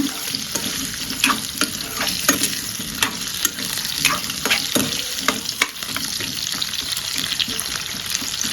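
Quartered potato pieces fry in a pan with a steady close sizzle, while a spoon stirs and scrapes in an irregular rhythm of sharp clicks and knocks, with no one speaking.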